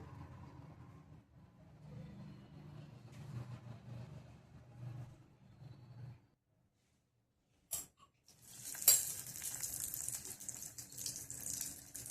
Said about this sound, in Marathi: आणि हे आपण तळून घेणार आहोत.